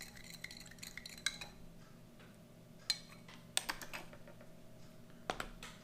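A spoon stirring drink mix inside a 2000 US MRE pouch, making scattered light clicks and scrapes at an irregular rhythm, faint and close over a quiet low hum.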